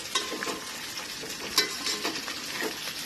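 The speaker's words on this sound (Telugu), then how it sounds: "ఇగో కూర వండుతుంది" Okra curry cooks in a pan with soft sizzling and several scraping stirs of a spoon, close and quiet, irregular clicks and swishes over a light frying hiss.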